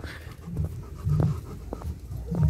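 A male Rottweiler on a choke collar pants close by in quick, rhythmic bursts of breath, several huffs in a row with short gaps between them.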